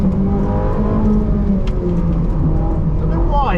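Ferrari 458 engine hums steadily from inside the car on a warm-up lap, a low droning note shifting slightly in pitch with a brief rev near the end, under someone talking.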